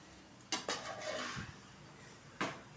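Fried rice with soy sauce being stirred in a pan, with a few sharp metallic clinks of a utensil against the pan over a faint background hiss, without talking.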